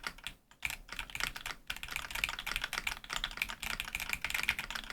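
Fingers type on a computer keyboard, a close, rapid run of clacking keystrokes with a brief pause near the start, then steady uneven tapping with no voices.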